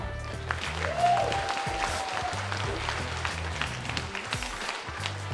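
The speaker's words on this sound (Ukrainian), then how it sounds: "Ваші оплески для партнера" Audience applause at a large charity tour event supporting the military, a steady wash of clapping lasting throughout, with low background music underneath.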